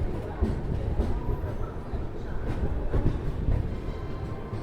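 Steady low rumble and rattle of a Mumbai–Jaipur train carriage moving after leaving Sawai Madhopur Junction, continuous and fairly loud throughout, with no distinct horn.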